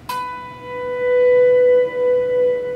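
An electric guitar note played through a delay pedal rises in volume and sustains smoothly with gentle pulsing repeats, heard alone.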